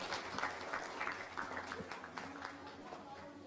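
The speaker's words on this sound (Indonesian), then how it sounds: "Tepuk tangan untuk kita semua" Light scattered clapping from a youth audience at an Indonesian talk event, a few seconds of uneven claps, fairly quiet, with faint voices underneath.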